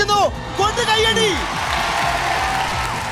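Applause and cheering from an audience greeting an elderly woman, a longtime resident of Chooralmala in Wayanad, rising briefly in the first second over voices and then settling into steady clapping and crowd noise.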